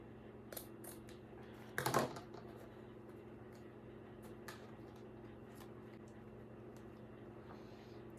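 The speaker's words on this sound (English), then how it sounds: "fold our ribbon in half, and then get our scissors and just cut upwards" A single short snip of scissors cutting upward through folded ribbon for an Easter wreath, faint and quick in a quiet room with a low steady hum and a few small taps.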